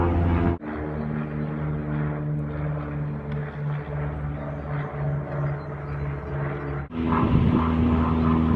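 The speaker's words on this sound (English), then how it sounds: "Now we've got a jet and a prop plane flying over." A jet and a propeller plane fly over a boat together, producing a sustained rumbling drone with a steady low hum, unbroken for several seconds before a brief dip and a louder return.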